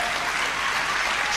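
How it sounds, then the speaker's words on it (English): Romanian fans in a table tennis arena applaud and cheer steadily during a women's team semi-final at the world team championships in London, a dense, continuous wash of clapping from a large crowd throughout. "the reason we had to stop before this is because of all the Romanian fans in the crowd right now"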